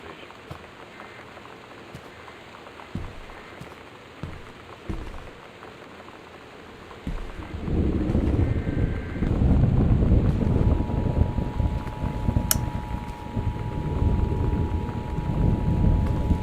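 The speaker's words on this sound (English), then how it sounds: "The Northwest Weather Service reports high winds and torrential rain conditions" Storm weather in the video game Gone Home: steady rain at first, then a sudden surge into heavy torrential rain and rumbling thunder with wind, loud and continuous to the end, with no speech.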